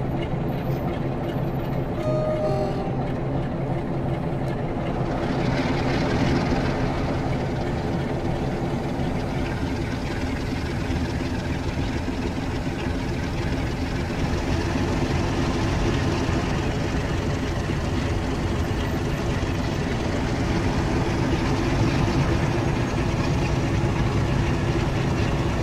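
A Class 47 diesel locomotive in Train Sim World 2 runs with a steady, heavy low engine drone and rail rumble, heard continuously from the cab with the window down.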